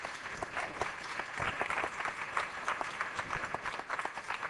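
Steady applause from an audience at a mathematics forum event, a dense, continuous patter of many hands clapping at moderate loudness throughout, with no speech over it.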